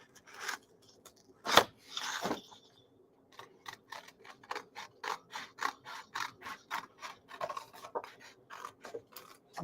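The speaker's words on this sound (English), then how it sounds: "Noise of me cutting through paper." Scissors snipping through paper during crafting: a couple of louder cuts early, then a long run of quick, evenly spaced close crunching snips, no speech.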